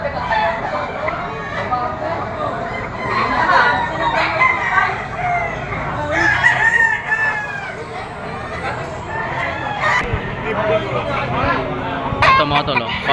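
Roosters and young bull stags at a chicken auction market in Lipa crow repeatedly and cluck amid a busy crowd, with overlapping calls near and far under steady speech babble.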